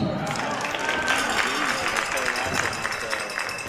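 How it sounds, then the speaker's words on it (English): A crowd at a hockey game between Tantramar and Northumberland cheers and claps in a steady, loud roar, with a commentator talking over it. "listen to this crowd, John."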